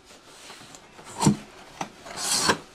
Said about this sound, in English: let's go ahead and open up this box